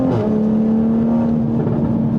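A 2020 Toyota Supra, tracked version, drives hard on a race track, its engine holding a steady, close, continuous drone with no speech over it.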